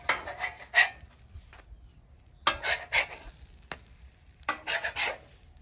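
Pancakes are flipped on a hot griddle, with short bursts of spatula scraping and clatter in three separate clusters over a soft, constant sizzle.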